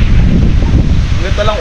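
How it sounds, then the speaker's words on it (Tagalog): Loud, buffeting wind roars into the microphone with low rumbling gusts, and a voice speaks briefly beneath it near the end. "Mahangin!"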